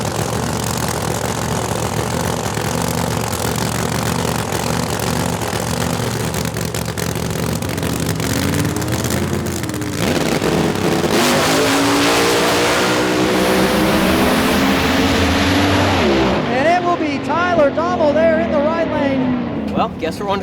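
Small tire drag race car at Beech Bend Raceway, a loud roaring engine that builds and rises in pitch as it launches and pulls away down the track, heavy and close, overlapping a commentator's voice.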